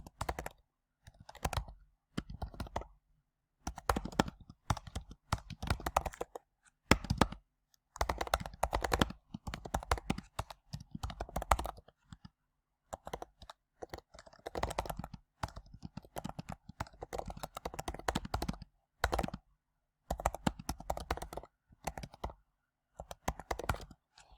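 Quiet, fairly close typing on a computer keyboard while writing a note, with bursts of rapid keystrokes broken by short pauses, continuing unevenly for the whole stretch.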